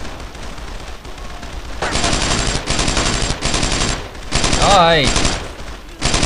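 Bursts of automatic gunfire in the World War II shooter Brothers In Arms: Road To Hill 30, loud and close, with rapid volleys and short pauses; a brief spoken greeting and a sliding whistle-like tone break in partway through.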